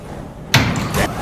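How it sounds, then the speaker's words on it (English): Subway train doors on an R179 car bound for Potato Brick slide shut with a sharp, loud thud about halfway through, followed by a brief rattle and a second softer bump, close by. "Stand clear of the closing doors"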